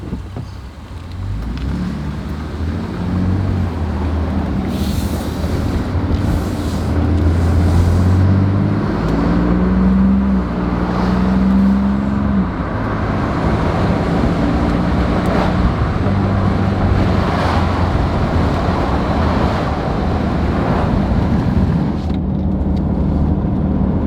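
Ford Raptor pickup truck driving on the road, a steady engine drone from inside the cab with rising and falling revs as it accelerates through gears over road noise, no talking.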